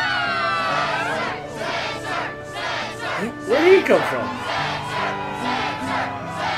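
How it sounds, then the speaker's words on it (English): A fired-up crowd shouts and cheers at the Struggle tournament in Kingdom Hearts 2, a continuous roar of many voices with a brief louder swell midway and a single voice speaking over it. "Yes, the crowd is fired up"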